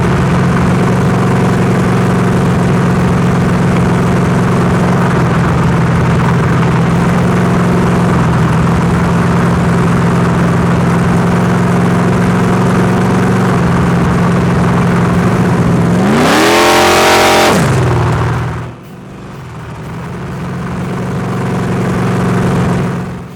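A big-block V8 in a 1969 Camaro rumbles at a loud, steady idle, then rises into one sharp rev, drops off abruptly and settles back toward idle.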